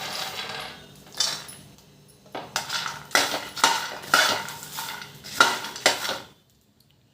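Garlic and tamarind frying lightly in a pan on low heat while being stirred, giving close, repeated clinks and scrapes of a utensil against metal in irregular bursts, with no talk.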